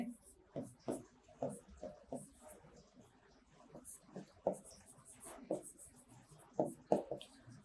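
Chalk or marker scratching out lines of text on a classroom board during a history lecture, in short repeated bursts of strokes, mixed with a teacher speaking.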